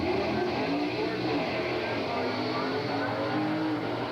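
A drag racing car at the 1983 Englishtown Springnationals launches hard and struggles with its second gear change. Its engine roar stays loud and sustained throughout while an announcer talks over it.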